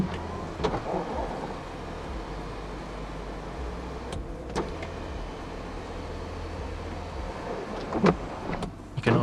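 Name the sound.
powered panoramic sunroof opening on 2020 BMW 740Le xDrive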